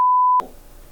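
A single steady censor bleep, a pure electronic tone, blares loudly for under half a second before cutting off abruptly to a faint room hush.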